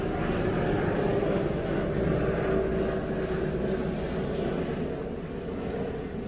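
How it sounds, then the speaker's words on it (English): A helicopter flies overhead above a rabbit farm, its engine making a loud, steady droning roar that fills the whole stretch and fades slightly toward the end. "excuse me, the noise, helicopter flying above"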